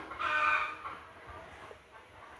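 A Fayoumi chicken gives a short crow-like call, followed by quieter clucks and faint farmyard background.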